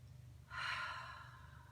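A single long, soft exhale through the mouth during a deep-breathing meditation. It is close and quiet, with a gentle airy whoosh that slowly fades.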